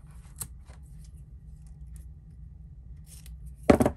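Scissors cut paper pieces for a handmade folio in a quiet room: a faint snip near the start, then a louder, sharp crunching cut near the end, heard close and without talk.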